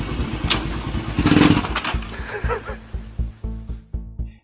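A motorcycle engine runs close by, revving loudly at first and then settling into a throbbing, pulsing idle.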